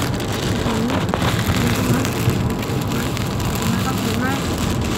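Heavy rain from a storm in Udon Thani, Thailand, pours down as a loud, steady wash of noise while driving, filling the whole clip without a break, with faint low rumbles beneath.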